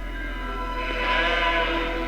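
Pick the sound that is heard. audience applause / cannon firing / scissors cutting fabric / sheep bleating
sheep bleating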